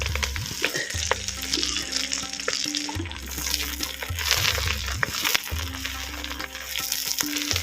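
Drumstick leaves are stirred and fried in oil with onions and dal for a peanut stir-fry, giving a steady close sizzle broken by scraping stirs and low clattering bumps of the pan.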